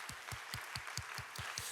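Church youth congregation clapping in unison, a steady rhythmic beat of about four claps per second, soft and somewhat distant, with faint room noise between claps.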